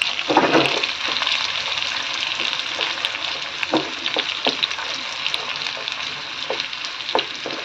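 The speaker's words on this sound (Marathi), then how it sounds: "आता हा मसाला आपल्याला या तेलावर असा चांगला परतून घ्यायचा आहे" Spice masala fries in oil for a bitter gourd curry, a steady close sizzle with scattered stirring scrapes and knocks of a spoon against the pan.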